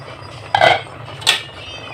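A pot of fish tinola with cabbage, stirred with a utensil that gives two brief metallic clinks against the pot rim, close and fairly loud over a quiet background.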